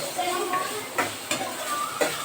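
Carrots stirred in a frying pan while cooking egg fried rice: steady sizzle under several scraping, knocking strokes of a spatula against the pan, close and fairly loud.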